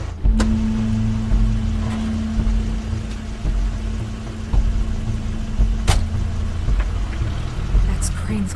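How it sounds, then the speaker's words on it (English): Crane's car pulling up in a scene from The Wolf Among Us video game: a steady, close low engine rumble with a sustained droning hum that cuts off near the end, plus a few sharp clicks and faint background noise. "That's Crane's car."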